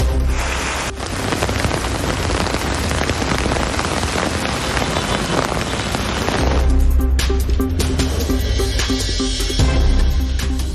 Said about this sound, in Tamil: கிருஷ்ணகிரியிலும் கனமழை கொட்டி தீர்த்தது.